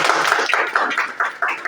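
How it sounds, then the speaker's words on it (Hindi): An audience claps steadily and fairly close at a Hindi-language DXN product presentation, a brief burst of rhythmic applause with no voices. "एक बार चाची के लिए जोरदार ताली बजाइए।"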